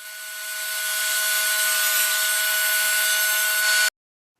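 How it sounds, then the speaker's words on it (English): A table saw cuts thin strips off a board edge, a loud steady whine with a broad rasp that builds over a second, holds, then cuts off abruptly. "I'll just run it through my table saw and cut thin strips off the edge that hasn't been jointed"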